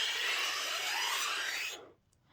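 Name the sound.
homemade bendy-straw pan flute being played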